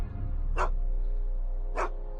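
Einstein the dog from the Back to the Future video game barks twice, two short distinct woofs spaced about a second apart over a low steady hum.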